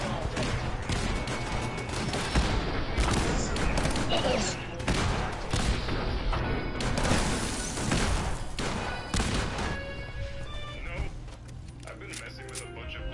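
Rapid bursts of gunfire from a Fallout 4 firefight as shots are aimed at a mine, loud and dense almost throughout, with voices talking over the shooting.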